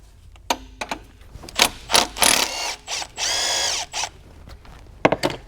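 A power tool spins a deep 11mm socket against a hose clamp on a Dodge Ram 6.7L Cummins, firing in short close bursts and one longer sustained whir, separated by brief clicks and pauses.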